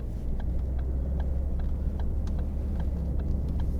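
A 2013 Ford Focus 1.6 TDCi ECOnetic Zetec drives round a roundabout, with a steady low engine and road rumble heard from inside the cabin and faint ticking on top, continuous and even.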